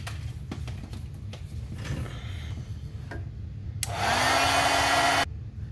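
A hair dryer blows on a small watercolor painting, switching on near the end as a loud, steady whoosh that runs for over a second before cutting off, after quieter rustling and ticking handling noises.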